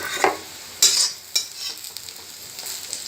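Onions and a spoonful of fennel seeds fry in hot oil in a pan, a soft sizzle broken by a few sharp scraping stirs of a spoon, close up with no voices.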